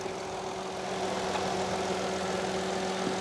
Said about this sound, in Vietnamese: Máy là nguyên hết, máy nổ rất là êm